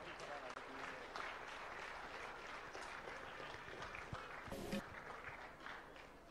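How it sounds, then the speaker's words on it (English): Applause from the audience at a children's fashion week runway show in Bengaluru, a sustained even patter of clapping throughout, fairly faint and distant. "And one big round of applause to our prime sponsor"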